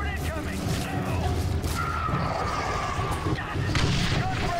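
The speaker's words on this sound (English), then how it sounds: "Fire mission. Get me there artillery. Fire support incoming." Artillery fire support strike in The Bureau: XCOM Declassified, a dense barrage of booming impacts and gunfire that runs steadily through the whole stretch, with voices talking over the combat.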